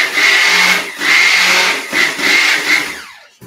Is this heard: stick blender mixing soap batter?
yes